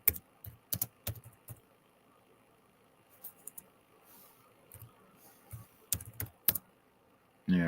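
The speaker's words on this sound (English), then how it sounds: "Wow, Chris, there's a lot of typing here." Scattered bursts of computer keyboard typing during a PC baseball game session, with quick clusters of sharp key clicks and quiet gaps between them, heard close up and alone against a faint background hum.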